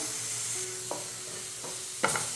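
Ground spice powders for Kerala-style kadala curry fry in a pan with a soft, steady sizzle, while a utensil makes a few light scrapes and clinks against the pan.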